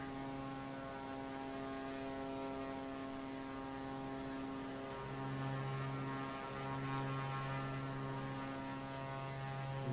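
A simulated airplane engine climbing in a flight video game drones steadily with a smooth, humming propeller tone that swells slightly midway, with no talking.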